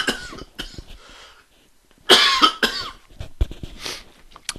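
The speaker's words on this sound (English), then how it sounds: "Sorry about that, still coughing away." A person coughs repeatedly in a quiet room. The sharp, harsh coughs come in uneven clusters, with a louder fit in the middle of the clip and more scattered coughs afterward.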